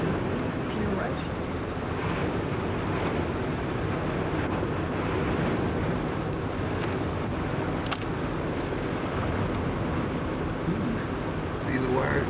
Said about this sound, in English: that wind is furious.